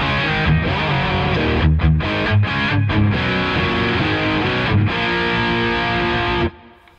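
Distorted electric guitar chugs through the chorus of a song, crunchy and loud with rhythmic chord stabs and brief gaps, ending in a ringing decay; no voices.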